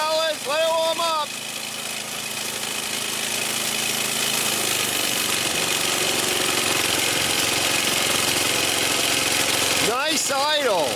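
A Kawasaki FJ180V engine on a Toro Turfmaster mower idles with a steady, close mechanical chugging, while someone talks briefly at the start and again near the end.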